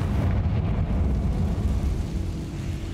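A Confringo fire spell exploding in the Hogwarts Legacy video game: a loud, sustained rumbling blast with deep, heavy low end that holds for several seconds and fades slightly.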